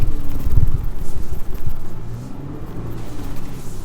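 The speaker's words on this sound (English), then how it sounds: "if you're driving on the beach like I'm doing right now" A 2023 Ford Ranger fitted with ARB Old Man Emu suspension drives along a beach, its engine a steady low rumble with wind buffeting and surging loudness, close and without talk.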